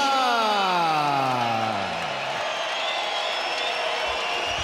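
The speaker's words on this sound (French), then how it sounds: "Probablement les applaudissements les plus nourris de la soirée pour un boxeur" Crowd at a boxing event in Quebec applauding and cheering as Charlevoix boxer Sébastien Bouchard is introduced, a steady dense roar of clapping and voices filling the arena, with a descending tone fading out beneath it at the start.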